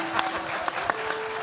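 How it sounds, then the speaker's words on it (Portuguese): A crowd applauds in a church setting, a short burst of dense clapping with a steady roar and scattered sharper claps, with a voice faintly audible over it. "salva de palmas"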